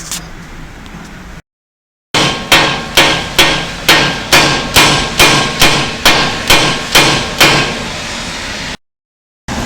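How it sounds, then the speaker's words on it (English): A hammer strikes a seized lower ball joint on a VW Transporter T4 over a dozen times in a steady, evenly spaced rhythm, each blow a sharp, loud metallic clang with a brief ring, recorded up close. "By hammering on that, creates like a vibration, and eventually it'll just pop down."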